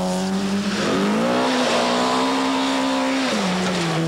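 Nissan rally car driven hard on a 1996 Bulldog Midland Rally stage, its engine roaring loud and close at a sustained high pitch, dipping briefly and rising again through gear changes with no talk over it.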